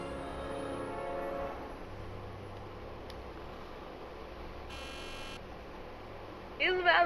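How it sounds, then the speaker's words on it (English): A door buzzer is pressed in Back to the Future: The Game and gives one short electronic buzz midway through a quiet stretch of game ambience. "interact with the buzzer"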